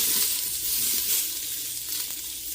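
Serrano peppers stirred in a frying pan while cooking a spicy mutton curry without oil, giving a soft continuous sizzle with faint scraping, close up and fairly even.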